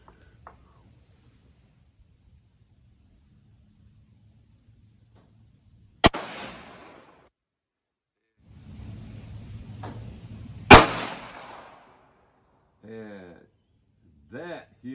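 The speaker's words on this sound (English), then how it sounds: "Now this is a 22 mag. I'm gonna hold dead on." A .22 Magnum Heritage Barkeep revolver fires single shots outdoors in calm conditions. Two sharp, close cracks stand out about five seconds apart against near silence, with a brief echo after each and short bits of speech near the end.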